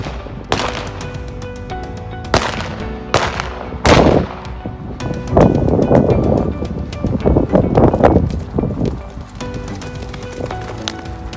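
Shotgun blasts ring out during a mounted shooting run on horseback, several sharp loud reports spaced across the ride, with galloping hoofbeats and wind noise running underneath.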